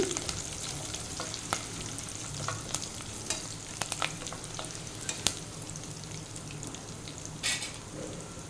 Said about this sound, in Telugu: కరివేపాకు వేగిన తర్వాత ఆనియన్స్ వేసుకోవాలి